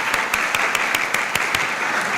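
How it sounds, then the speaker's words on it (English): Applause for Congressman Buddy Carter at a democracy awards event, a steady crowd clapping with several sharp, distinct claps standing out near the front, fairly loud and uninterrupted. "So a round of applause for Congressman Carter"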